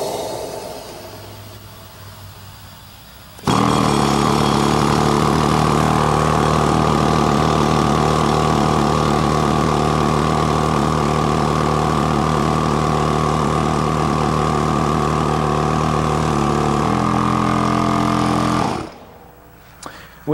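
An A-1C rail drill machine bores into a steel rail under automatic feed, a loud steady motorized drone with layered tonal harmonics running about fifteen seconds after a quiet start, the pitch shifting slightly near the end before it cuts off.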